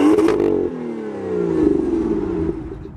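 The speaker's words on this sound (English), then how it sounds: "You can hear this car from the outside" A 2016 BMW M2's engine and exhaust heard from outside the car: a loud, close rev with rising and falling tones, a brief drop after half a second, then another surge before easing off.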